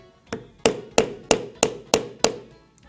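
A leather stamping tool is struck with a mallet while embossing a pine cone cluster, giving seven sharp, evenly spaced knocks. Each blow is close and loud with a brief decay, and there is no talk.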